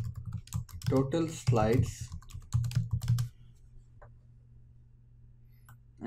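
Computer keyboard typing while entering a text caption in Adobe Captivate 6, with light clicking keystrokes that run under a narrator's voice and then a few faint, scattered clicks in near silence.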